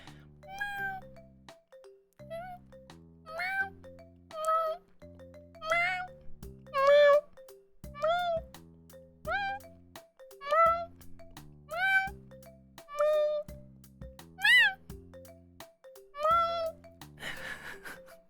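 Someone imitating a cat with a long series of meows, rising and falling squeaky calls repeated in an uneven rhythm, heard over a steady electronic music bed with plucked notes.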